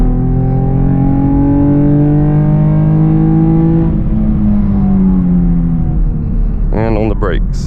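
Chevrolet Camaro RS V6 1LE accelerating hard from a roll, its engine note climbing loud and close through the gears with a shift partway and rising whine, a voice briefly heard near the end.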